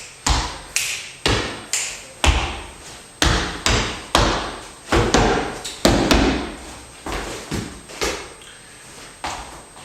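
A tango dancer's feet work through a recoge and llamada, striking the floor in a steady run of firm, close taps and thuds with a clear rhythmic pulse and no talking.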